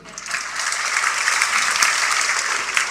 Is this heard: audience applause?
yes